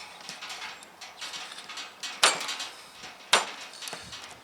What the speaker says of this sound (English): Shave off our beeswax.